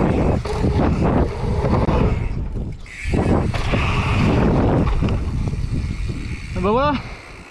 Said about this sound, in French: Le vent c'est toujours pas calmé